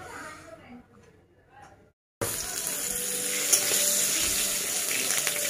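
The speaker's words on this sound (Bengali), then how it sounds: "তো বন্ধুরা একটুখানি বেগুন ভেজে নিচ্ছি" Eggplant frying in a pan gives off a loud, steady sizzle that starts suddenly after a few seconds of quieter sounds and keeps going without a break.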